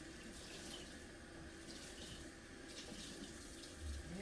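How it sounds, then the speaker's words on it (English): A kitchen tap runs steadily into the sink, a faint continuous rushing and splashing of water close by, with no talk over it. "Wait for the hot water here."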